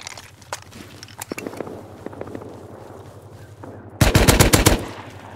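Gunfire in the survival game Rust, with scattered single shots and footstep-like taps, then a loud close burst of rapid automatic fire near the end.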